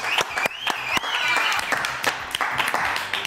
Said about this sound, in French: On l'applaudit très très fort, je ne sais pas qui c'est.